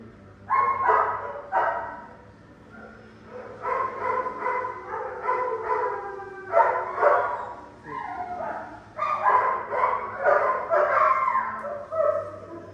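A dog gives repeated short barks and yips in quick clusters, close and fairly loud, with brief pauses between bursts.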